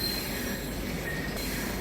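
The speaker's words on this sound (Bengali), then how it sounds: "আসানসোল থেকে আমাদের ট্রেন ছেড়ে দিল।" Howrah–New Delhi Duronto Express pulling out of Asansol Junction, with a steady close rumble of rolling wagons and a thin high squeal of wheels on the rails throughout.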